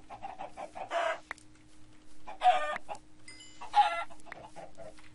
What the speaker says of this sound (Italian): Polli! Quanti polli?